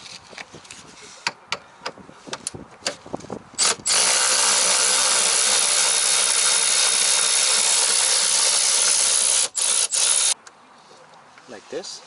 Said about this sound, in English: I use an electric ratchet.